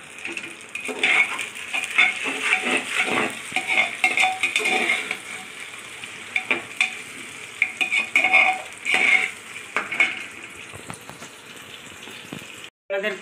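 Crushed ginger, whole garlic and green chillies fry in oil for a pressure-cooker mutton curry, an uneven close sizzle with stirring and clinks of utensils against the pot, fading near the end.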